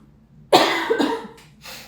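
A single close cough, harsh and sudden, followed by a second smaller cough and a breath after a short silence.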